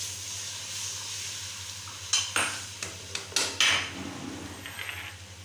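A utensil scrapes and knocks against a cooking pot to clean it out, several sharp metallic clanks and scrapes in an uneven cluster over faint frying hiss and a low hum.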